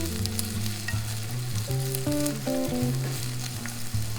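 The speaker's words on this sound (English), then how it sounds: "Cook onions over medium-low heat about 3 or 4 minutes." Onions cook in a pan over medium-low heat with a steady, soft sizzle and frying hiss that runs the full length, under tonal background music.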